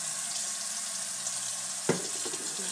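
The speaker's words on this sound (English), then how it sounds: "Wash my hands real quick." Hands are washed under a running kitchen tap during turkey smoking prep, a steady close hiss of flowing water with a brief splash near the end and no talking.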